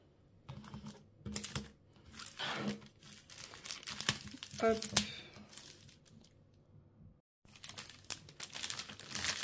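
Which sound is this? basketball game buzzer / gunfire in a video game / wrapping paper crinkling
wrapping paper crinkling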